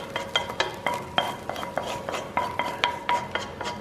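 Chopped onions are stirred into a wet spinach vegetable-ball mixture, a utensil clinking against the bowl in a quick, steady rhythm of close, bright taps with no talking.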